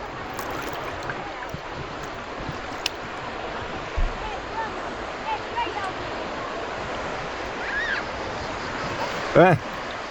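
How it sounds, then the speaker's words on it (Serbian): Gentle waves wash continuously against the shore in a soft, steady hiss, with a few faint splashes and a brief chirp near the end. "talasi stalno onako lagano zapljuskuju obalu i oni daju neki šum specifičan svemu tome"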